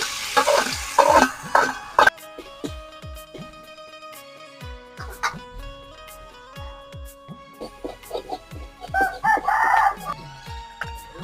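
Dried shrimp, washed and coated with salt and turmeric, are tipped into hot oil in a wok in a village kitchen. Loud sizzling and spatula clatter come in bursts, with fowl faintly audible in the background.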